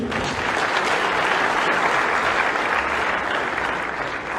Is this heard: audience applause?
yes